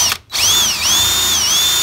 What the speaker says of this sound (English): drill the center hole first.